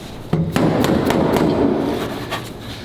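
A hammer knocks on the hood of a twin-turbo Ferrari F12 several times in a loose rhythm, sharp close taps, each one ringing briefly and trailing off.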